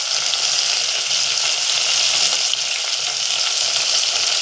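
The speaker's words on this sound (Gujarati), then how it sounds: "ગવાર વગાડી દઈએ તો ગાઈસ આપણે હળદર નાખી દઈએ" Cluster beans fry in a pan with garlic, chilli, cumin and turmeric for a home-style Gujarati dish. A close, steady sizzle with a watery crackle carries on throughout without anyone speaking.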